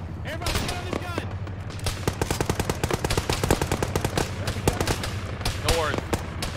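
Rapid machine gun bursts in the ArmA military game, with repeated gunfire and some distant shots under overlapping voices calling out.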